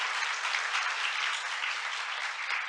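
At a Korean literature forum, the audience applauds after a three-person panel discussion. The clapping is steady and even, heard somewhat faint and distant across a hall, with no pause for its whole length.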